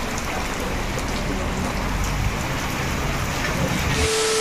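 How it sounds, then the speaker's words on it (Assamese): Steady, heavy rain falling outside a veranda, a loud and continuous hiss that stays even throughout with no talking. "বাৰান্দাতে বহি আছো কাৰণ বৰষুণটো এৰাই নাই"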